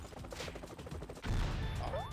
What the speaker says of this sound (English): Dropping bombs on me.